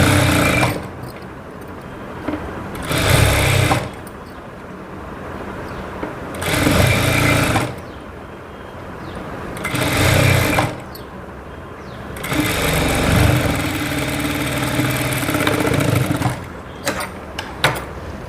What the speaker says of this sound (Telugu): ఇప్పుడు దీన్ని ఇలా ఫోల్డ్ చేసి కుట్టేసేయండి.